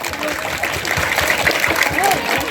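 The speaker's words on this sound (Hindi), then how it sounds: "जोरदार तालियां।" Lively audience clapping at a Hindi kavi sammelan poetry recital, a dense steady wash of applause with crowd voices mixed in throughout.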